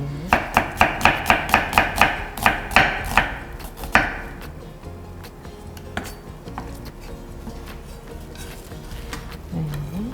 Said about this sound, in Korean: 양파 썰리는 소리가 굉장히 경쾌합니다.